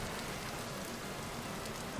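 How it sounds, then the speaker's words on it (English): Heavy rain in a video game, a dense continuous hiss of downpour on surfaces, loud and steady throughout with no talk. "I love the pitter-patter of rain."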